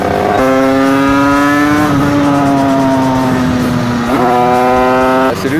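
A Derbi moped with an 88cc Stage6 kit screams along while being ridden, its loud, close two-stroke engine note holding high, dipping briefly and then rising again as the throttle is worked.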